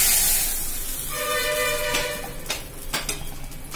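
Tempering of dried red chilli and curry leaves hits a pot of boiling drumstick sambar with a loud sizzling hiss, then softens as a few metal clinks and scrapes follow.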